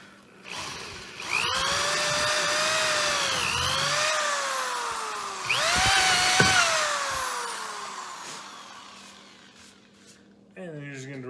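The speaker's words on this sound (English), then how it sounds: "you're just going to drill through, and you're going to drill your hole" Power drill boring holes through a wooden guitar body, its motor whining up in pitch, holding steady, then bearing down as the bit cuts, repeated in two long passes, loud and close.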